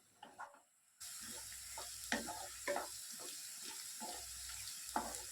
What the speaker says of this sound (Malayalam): രണ്ട് ചെറിയ സവാള സ്ലൈസ് ചെയ്തതും അതുപോലെ ഒരു ടീസ്പൂണിൻ്റെ മൂന്നിലൊരു ഭാഗം ഉപ്പും കൂടി ചേർത്ത് വഴറ്റി തുടങ്ങാം